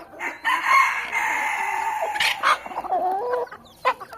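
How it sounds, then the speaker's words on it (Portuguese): A black rooster with a blond mane crows loudly on a free-range chicken farm, with clucking hens close by and a few sharp calls near the end. "Olha que frango bonito."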